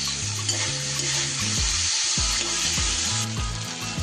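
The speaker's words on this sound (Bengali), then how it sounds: "এবার এর মধ্যে দিয়ে দিচ্ছি আমি গ্রেট করা আদা এক চা চামচ" A teaspoon of grated ginger fries with sprouted mung beans and oats in a pan, giving a steady, close sizzle with stirring scrapes throughout.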